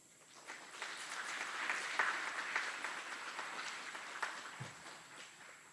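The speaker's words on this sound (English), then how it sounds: "Please join us in giving a round of applause to these outstanding drill sergeants and instructors." Faint, distant crowd applause at an Army graduation ceremony honoring drill sergeants and instructors, a soft continuous patter that swells and then fades out.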